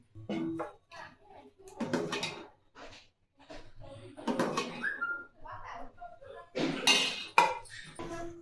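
A metal pot clatters and scrapes as a thick, ghee-rich sweet puttu is poured out onto a ghee-greased plate. There are several sharp clinks and bangs in bursts, close and clear, with a person talking in between.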